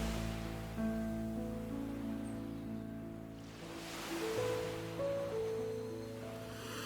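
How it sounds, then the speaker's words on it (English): Rhythmic ocean waves wash in and recede in slow swells, a soft, distant surf rising and falling beneath sustained calm music tones. "of the rhythmic ocean waves"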